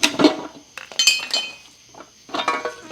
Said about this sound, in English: I hear some metal rolling around